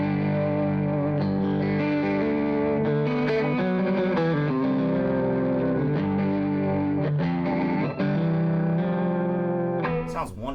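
Electric guitar played through a Chroma Console multi-effects pedal into a pushed amp, sustained chords with chorus-like shimmer and mild distortion, ringing continuously and close, with a brief scrape near the end.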